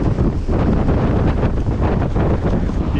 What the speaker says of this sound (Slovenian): Piha še vedno, ne vem koliko, vsake tu časa so ful sunki